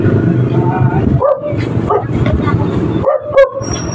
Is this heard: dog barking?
yes